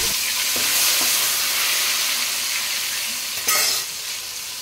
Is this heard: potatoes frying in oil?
yes